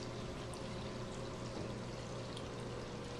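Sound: water pumped into Speece cone oxygenation model

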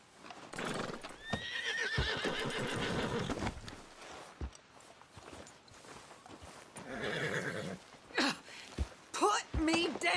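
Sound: horse neighing in video game

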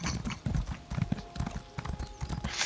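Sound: horse hooves clip-clopping, from the video game The Elder Scrolls Online

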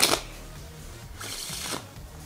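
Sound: shuffling a pack of playing cards

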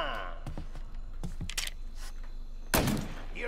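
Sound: pistol gunfire in video game Mafia Definitive Edition

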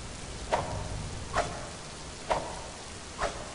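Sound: glass war axe swinging in Zelda video game

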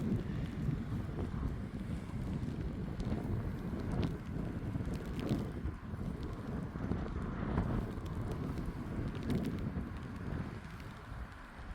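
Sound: strong wind and rain

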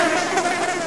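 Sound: bush fly buzzing, video game Blinky Bill's Ghost Cave

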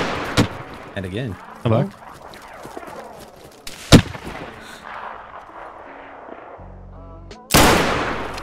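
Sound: rifle shots in the video game DayZ

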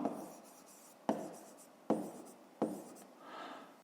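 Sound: handwriting on paper during a maths exercise

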